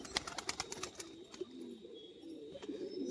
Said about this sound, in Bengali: এটা ফুলশিরা গেরাপের একটা নর পায়রা